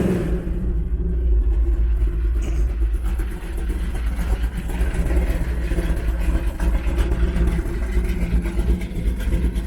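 A Chevy C10 big block with a Comp Cams 268 Extreme cam idles with a deep, lumpy rumble, loud and close, uneven low pulses running throughout.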